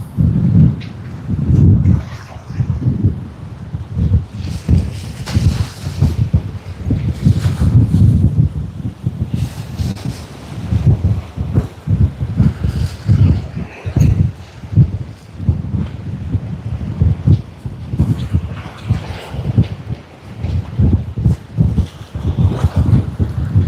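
Strong wind gusting across the microphone at Sydney Airport, heavy rumbling buffets that rise and fall in uneven bursts and dominate the sound throughout.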